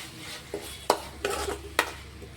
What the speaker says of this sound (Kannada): ಇದು ಕೂಡ ನಾನು ಒಂದು ಸ್ವಲ್ಪ ಫ್ರೈ ಮಾಡಿ ತೊಗೋತೀನಿ